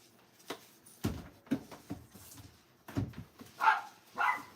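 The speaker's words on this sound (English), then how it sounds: "Why are you barking? Who are you barking at?" Indoors, a dog gives a handful of short, sharp barks spaced irregularly, with a couple of higher yips near the end, close by and against quiet background.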